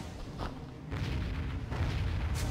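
Ship cannons firing in the Pirates of the Caribbean video game, a few heavy booms with rumbling roar that swell and linger, loud and close, with no talk.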